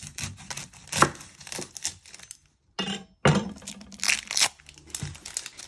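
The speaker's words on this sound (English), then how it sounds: "You're first going to chop the ends off." Knife chopping the ends off onions on a board, a few crisp cuts and crunchy, tearing slices with short pauses between them, close and clear with no talk.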